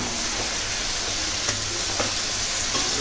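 Tomatoes and green chillies fry in spices cooked down for a tuna curry, giving a continuous dense close sizzle with a few faint stirring taps.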